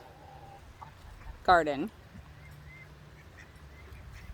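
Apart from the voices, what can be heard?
farm birds entering a vegetable garden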